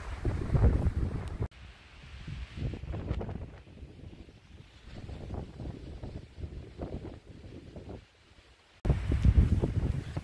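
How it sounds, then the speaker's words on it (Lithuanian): Strong, gusty mountain wind high on a trail near Zakopane in November, buffeting in loud surges at the start and end with quieter roaring stretches between, and no voices. "Kuo aukščiau lipam, to didesnis vėjas."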